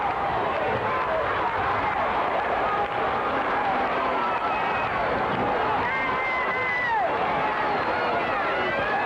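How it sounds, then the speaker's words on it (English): Wrestling crowd at a CWA television event hollering and chanting for Valiant, a dense, loud, continuous roar of voices filling the arena throughout. "Crowd hollering, "We want Valiant," I believe."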